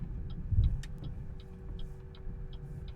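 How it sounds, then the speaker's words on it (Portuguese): A BYD Dolphin electric car drops into a deep pothole, giving one muffled low thump under a soft, steady road hum and faint interior ticking, with no engine roar. "agora a gente passou aqui num buraco mais fundo"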